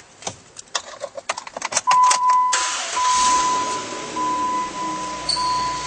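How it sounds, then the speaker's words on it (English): Keys jangle and click in the ignition, then a 2011 Jeep Wrangler Unlimited engine cranks and catches into a loud, steady idle, with a chime tone sounding alongside, close up. "And now we'll start up this Jeep"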